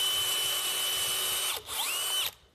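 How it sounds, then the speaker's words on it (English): A power drill bores a hole into a mushroom log, a steady high whine running for about two seconds, briefly dipping mid-way, then stopping abruptly; close and loud with no talking. "And then you can drill a hole."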